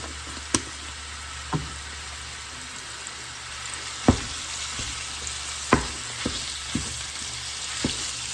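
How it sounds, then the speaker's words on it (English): Ground meat seasoned with Italian seasoning browns in a pan, a steady soft sizzle punctuated by about eight sharp knocks of a utensil breaking it up, with no voices. "So I'm just going to break this up some, let it start to brown."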